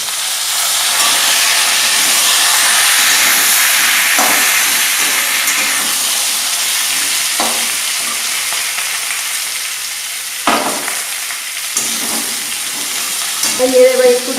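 Mixed vegetables for Bengali shukto fry in spice-tempered oil, giving a loud, steady sizzle with a few stirring scrapes and clatters near the end.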